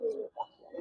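A Giribaz pigeon in a loft gives a brief, low, throaty coo in two or three soft pulses, heard close and alone.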